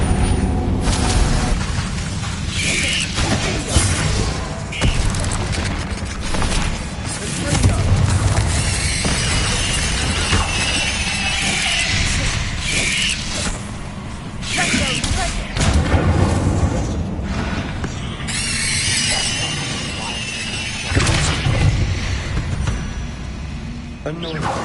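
In a Harry Potter video game, an Incendio fire spell fires off in repeated whooshing, crackling bursts over music and game noise, with a character voice shouting spell names throughout.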